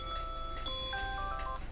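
A phone alarm goes off nearby as a bright, steady electronic chime with sustained tones layered over a faint ticking pulse.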